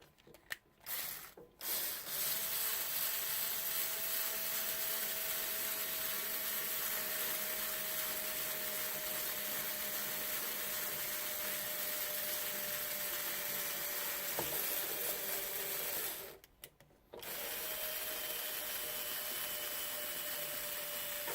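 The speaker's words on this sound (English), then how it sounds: "I'm going extra slow with my drill here. You want to go slow so you don't damage and tear the Lexan." A drill runs slowly and steadily while holes are bored in a clear Lexan RC car body, a faint whine that stops briefly near the start and again around two-thirds through before resuming.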